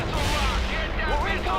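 Gunfire and artillery from World in Conflict battle continuously through a short stretch, thick and rumbling, with radio-style voice chatter layered over the combat noise.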